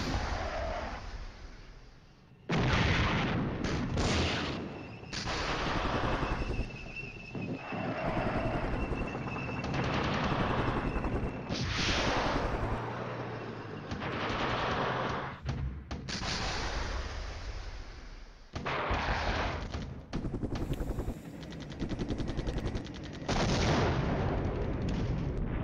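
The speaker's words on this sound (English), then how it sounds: "Fire away, barrages." Artillery barrage firing in the wargame Flashpoint Campaigns, a long run of heavy booms and rumbling blasts in irregular bursts, loud and dense, with short gaps between volleys.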